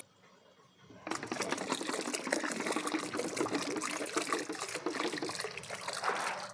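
Water pours steadily into a tub at close range, a continuous splashing rush that starts abruptly after a quiet moment and carries on with no talking.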